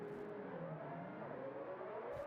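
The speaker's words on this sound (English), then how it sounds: "I hear car engines." Open-wheel race car engines from a racing video game, a sustained whining rev with rising and shifting pitch, loud and steady, no voices.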